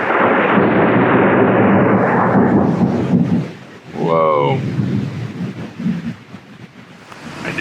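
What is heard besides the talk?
thunder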